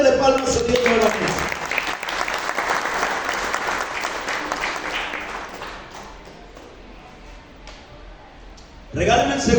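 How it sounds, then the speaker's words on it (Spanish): A church congregation breaks into loud applause offered to God. The clapping swells, then thins and fades over several seconds before a voice speaks near the end. "dale una ofrenda de palmas a Dios nuevamente."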